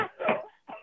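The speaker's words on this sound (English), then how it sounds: "Your cough is very bad." A person coughs a couple of times, close and fairly soft, in a brief burst with a short pause between the coughs.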